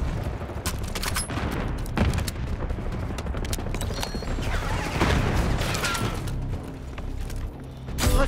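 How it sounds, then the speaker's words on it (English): Call of Duty Black Ops 6 Hardpoint match with dense, continuous gunfire and booming explosions throughout, loud and close, sharp bursts around the second, fifth and eighth seconds, with faint game radio chatter underneath. "Grenade going out."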